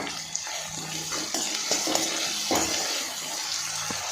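Green chillies and chopped onions fry with salt in a pan for an egg pulusu, giving a steady, close hiss of sizzling oil with a few light clinks and scrapes of a utensil against the pan.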